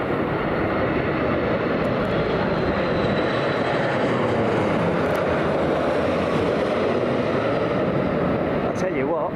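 A jet airliner lands at windy London Heathrow Airport with ground spoilers deployed, a steady, broad engine roar filling the air continuously without pause.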